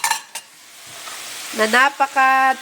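Onion sautés in ghee in a pan with a soft, hissing sizzle and a few stirring clicks early on, and a voice briefly speaks near the end.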